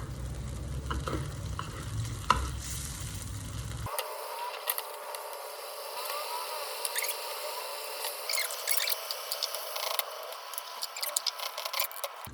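Roasted chili paste being stir-fried for clams, a close sizzle with irregular clicks and scrapes of stirring that turn sharper and busier after the first few seconds, without speech.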